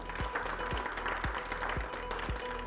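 Applause from farmers and guests at an agricultural question forum on stubble management and winter vegetables, a steady wash of clapping over a low electrical hum with faint voices.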